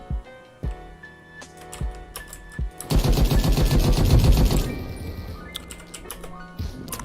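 The Spray and Pray rifle in the game Krunker fires a rapid automatic burst of about two seconds, dense and loud, set among scattered sharp clicks and single shots before and after.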